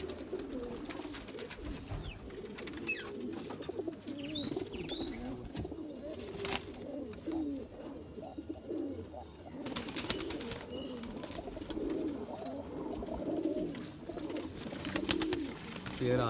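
Kasuri pigeons kept for sale coo in soft, repeated rolling calls close by, with someone speaking Hindi over them and occasional rustling and flapping.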